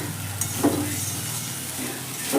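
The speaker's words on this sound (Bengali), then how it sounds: "আবারও খুব ভালো করে এইভাবে নেড়ে দেবো" Banana stem and raw papaya in a pan, sizzling softly beneath a few scraping stirs, steady and close with no voices.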